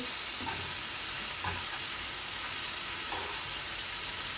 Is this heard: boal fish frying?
yes